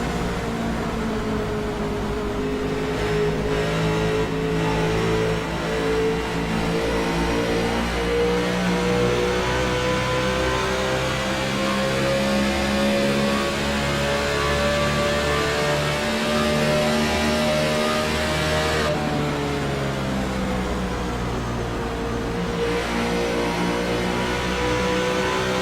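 A race car engine drones loudly and continuously through an onboard lap, its pitch climbing steadily, then dropping sharply at a gear change before rising again.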